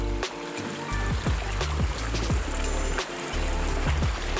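Water rushes and gurgles steadily close by, Mason Creek running in spring at Staunton State Park, with scattered splashes and clicks over the flow.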